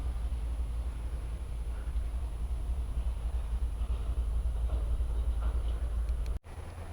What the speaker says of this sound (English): I've been waiting for the train to move.